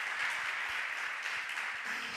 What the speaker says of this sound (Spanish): Un fuerte aplauso para el yerno.